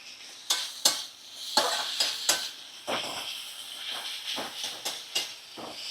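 Chopped tomatoes fry in a pan over a medium flame, a steady sizzle broken by repeated stirring scrapes and clanks of a utensil against the pan, close and moderately loud with no voice.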